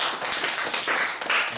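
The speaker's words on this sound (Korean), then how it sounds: "박수." A small audience at a medical ultrasound workshop applauds in a short burst of brisk, close hand clapping, with no voices over it.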